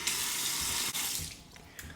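A hot water tap runs into a metal shaving lather bowl, a close, bright splashing gush that cuts off briefly, resumes, then tapers off toward the end, with no voices.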